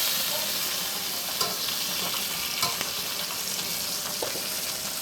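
Fish frying in a pan after about five minutes of cooking, a steady close sizzle with scattered pops and faint clinks, no talking.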